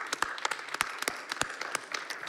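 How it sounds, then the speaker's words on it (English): Audience applause at a library book talk, a steady wash of many hands clapping with sharper individual claps standing out, moderately distant and fairly even throughout. "I think you should give yourselves a round of applause"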